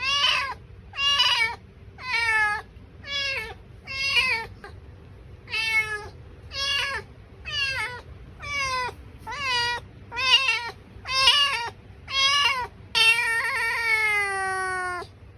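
A male cat meows repeatedly and insistently to go outside, about a dozen long, wailing calls in a steady rhythm, close by, ending in a drawn-out yowl.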